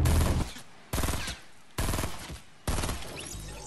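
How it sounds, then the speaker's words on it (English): Gunfire in the Fortnite battle royale video game: four loud bursts of rapid automatic shots, each cutting in sharply and fading before the next, evenly spaced and close. "Should we shoot him right now? Yeah, start shooting."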